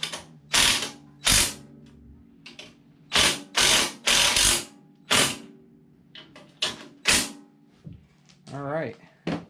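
A hand ratchet tightens bolts on a garden tiller, giving loud, close bursts of clicking at an uneven pace with short gaps. Someone speaks briefly between the bursts.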